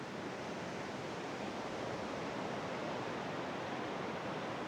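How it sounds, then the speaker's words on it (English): The Tongue River in Wyoming's Bighorn Mountains, a constant broad rushing roar of moving water, steady and even with no breaks, heard from a distance with no talking. "You can hear the roar of the Tongue River in the background."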